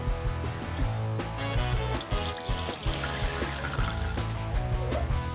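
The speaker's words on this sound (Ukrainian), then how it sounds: "У миску наливаємо воду кімнатної температури" Room-temperature water pours steadily into a bowl, a continuous splashing trickle close by with a faint background hum.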